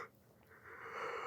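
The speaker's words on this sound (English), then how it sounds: "Big yawn." A person's big yawn, a soft breathy wheeze that starts faint and swells into a longer, airy exhale, close and quiet, with no talking.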